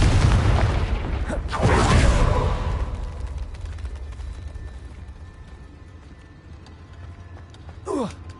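A Confringo blasting spell in Hogwarts Legacy goes off as a loud, booming explosion early on, then fades into a long rumbling tail, with a short whooshing sweep near the end.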